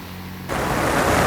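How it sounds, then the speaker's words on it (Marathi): Heavy rain falls on a flooded road in Kalyan, a dense hiss that is quieter at first and then swells suddenly into a loud, even roar partway through. "कल्याण डोंबिवलीत जोरदार पाऊस आहे"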